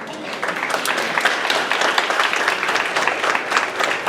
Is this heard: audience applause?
yes